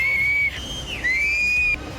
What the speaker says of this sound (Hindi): लोगों को आगाह करने के लिए लगातार सीटियां बजाई गई